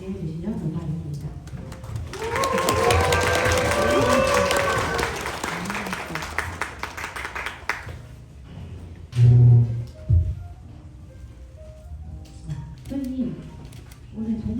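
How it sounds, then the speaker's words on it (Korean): Audience at a live reading event on stage applauds in a sustained wave that swells and then fades, with crowd noise and some voices mixed in before a host resumes speaking. "다들 따뜻한 박수로 맞이해 주시면 감사하겠습니다"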